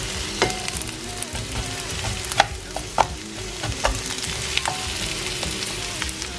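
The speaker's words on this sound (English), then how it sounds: "I've just got some red peppers, onions, and a little bit of chili pepper here, and I'm going to gently sweat this off" Red peppers, onions and a little chili pepper sweat in a frying pan, a moderate steady sizzle with scattered sharp clicks and spatula taps, no one speaking.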